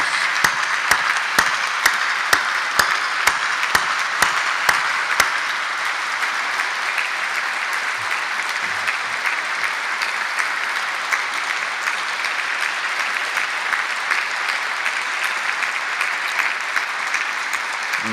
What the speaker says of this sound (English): Would you stand and let us give you a round of applause?